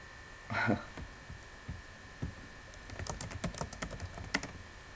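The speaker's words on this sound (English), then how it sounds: "He's typing something," Faint keyboard typing on a computer during an online Magic 2014 draft tournament, beginning after a brief thump and a low hum, then a quick run of light clicks toward the end.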